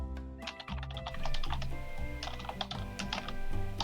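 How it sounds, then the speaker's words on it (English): Rapid, continuous typing on a computer keyboard, dense clattering keystrokes with no pauses, close and fairly loud, running alone with a steady low hum underneath. "Yes, furious typing in the background."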